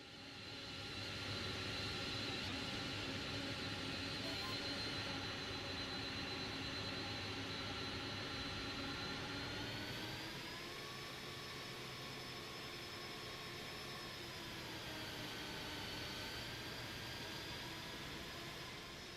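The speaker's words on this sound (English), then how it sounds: "You're gonna hear the engine spool up." Jet engines of an Airbus A300-600F freighter spool up in Microsoft Flight Simulator 2024, a loud steady roar with whining tones that climb in pitch partway through, continuous and without talk.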